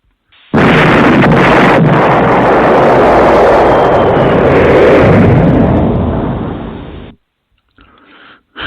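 Bomb explosion sound effect, a loud, sudden roaring blast that sustains as a broad rumble for several seconds before cutting off abruptly.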